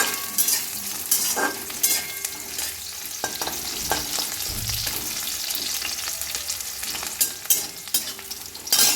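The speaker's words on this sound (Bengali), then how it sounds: "এবার পেঁয়াজটা একটু ভাজা ভাজা হয়ে যায়," Onions fry in hot oil in a pan, a constant close sizzle broken by sharp spatula scrapes and taps against the metal as they are stirred, with no talking.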